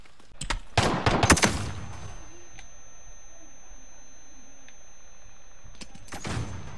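Glock pistols fire in a multiplayer shooter match, a rapid cluster of sharp close shots early on, then a quiet stretch and another short burst near the end.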